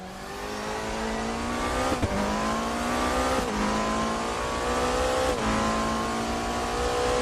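GT3 race cars lapping in the Raceroom sim at Daytona during a 2.4-hour event, a steady engine drone with rising gear-change sweeps and sharp shift breaks about every one and a half seconds, loud and continuous with no talk.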